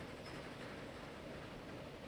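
Trains running on level track in the Transport Fever 2 video game, a faint, steady rumble of rolling wagons with no distinct clacks and no talk.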